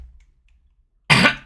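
A single short, harsh cough bursts out close to the microphone after a second of near silence, sounding like a throat-clearing hack.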